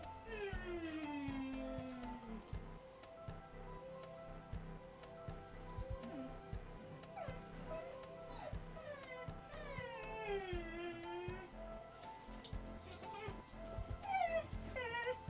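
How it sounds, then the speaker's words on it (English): Several dogs whimpering, howling and yelping excitedly indoors, high whines rising and falling over a faint background with occasional ticking, continuing throughout. "Dogs are going nuts"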